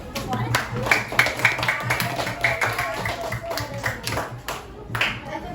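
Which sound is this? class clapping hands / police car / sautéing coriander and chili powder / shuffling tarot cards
class clapping hands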